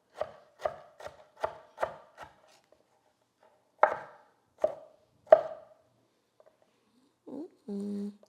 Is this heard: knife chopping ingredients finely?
yes